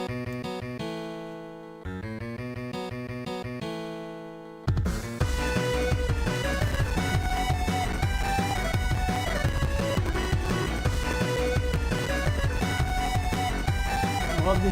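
Mega Man Storm Eagle stage music remix played back: a sparse chiptune-style melodic intro with stepped notes and brief pauses, then a full gentle hip-hop shuffle beat with layered synths and drums kicking in loudly.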